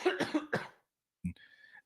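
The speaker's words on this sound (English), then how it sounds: "I just muted you while I was coughing" A short burst of close coughs, three or four in quick succession, followed by a pause and one more brief throaty sound.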